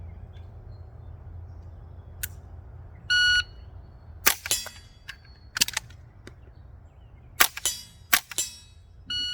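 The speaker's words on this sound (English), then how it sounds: "1 round, speed reload, 2 rounds" Three suppressed gunshots from a SilencerCo Sparrow: a single sharp report, a pause for a speed reload, then two quick shots, with clanks, a brief electronic beep from the shot timer and faint background hum.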